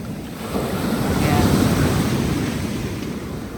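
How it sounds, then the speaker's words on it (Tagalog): Strong ocean surf rolling in on Kauai, Hawaii, a broad roaring wash that swells and eases, roughened by wind buffeting the microphone, with no talk. "takot ako niyang alon, no? Ang lakas."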